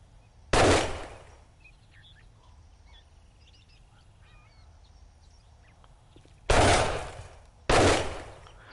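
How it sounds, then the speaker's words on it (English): Pistol shots in the game 7 Days to Die: three sharp, loud bursts, one alone early and two close together near the end, separated by quiet background. "I know I'm trying to hit him with a pistol"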